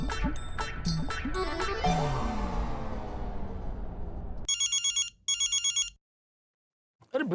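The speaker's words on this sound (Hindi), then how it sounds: "अरे भिड़े का फोन" A telephone rings in a busy household scene from a family comedy: a burst of overlapping music and activity gives way to two clear repeated electronic ring bursts, then silence.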